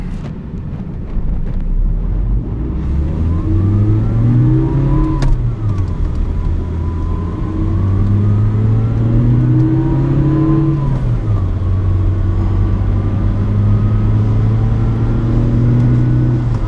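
A Toyota MR2 accelerates up an interstate on-ramp, the engine climbing through the gears in rising, loud revs with brief dips at each shift, heard from inside the car over steady wind noise.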